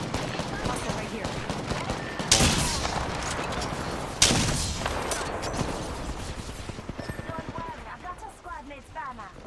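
Gunfire in a battle royale video game, a steady run of rapid shots with a couple of louder bursts, under game noise and players' voices.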